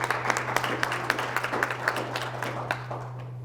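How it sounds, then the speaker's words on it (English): A modest audience at a veterans memorial lunch lecture claps for Ann Boykin, with brisk, fairly close clapping over a steady low hum, thinning toward the end. "Everybody give her a round of applause."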